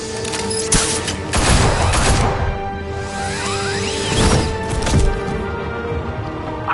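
Rapid sustained gunfire from a shootout in the Batman Telltale Series video game, loud and dense bursts layered with crashes and whooshes, continuing throughout without pause.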